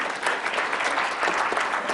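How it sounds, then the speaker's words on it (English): Audience applause at a public business meeting, steady dense clapping from a crowd filling the whole moment at moderate loudness with no talk over it. "let's give her a round of applause"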